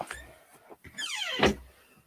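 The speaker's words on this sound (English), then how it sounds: "My dog's opening up my door." A dog pushes open a bedroom door: a couple of soft knocks and bumps, then a creaking, rising hinge squeal and a thud, heard close in a quiet room.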